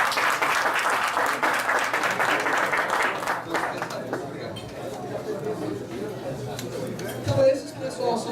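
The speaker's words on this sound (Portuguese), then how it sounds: "Uma salva de palmas" A Rotary Club audience claps steadily after a talk, the applause loud at first and then thinning out and fading, with murmuring voices and a faint clink toward the end.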